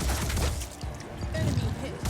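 Weapon fire at a target in the tactical game Phoenix Point, a short dense burst of gunfire rumbling loudly and continuously for a couple of seconds.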